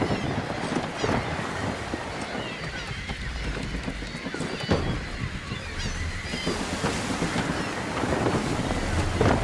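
Steady rushing wind and sea wash aboard a sailing ship in Assassin's Creed III, a loud, continuous broadband roar that swells slightly toward the end, with faint creaks and splashes mixed in.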